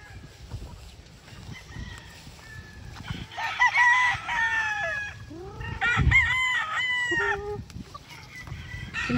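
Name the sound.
gamefowl rooster crowing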